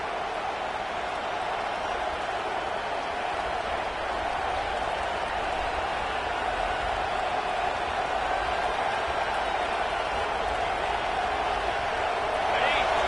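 A stadium crowd at a college football game involving Georgia produces a dense, continuous roar that stays steady and swells slightly near the end, with no distinct individual voices standing out.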